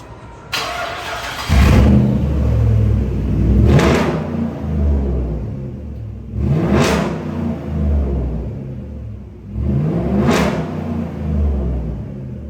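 A 2008 Jeep SRT engine starts, then blips through three sharp revs spaced a few seconds apart, each rising and falling back to a steady idle, recorded close with no talk.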